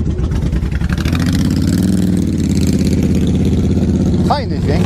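A pink motorcycle's engine rumbles and revs nearby, its pitch rising and falling steadily, with a short sharp high sound near the end.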